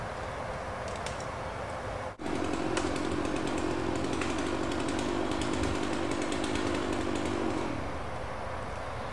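A chainsaw cuts into a pine tree during a removal job that uses a crane. The engine runs loud and steady, then bogs into a sustained cutting drone for several seconds before easing off, with no voices.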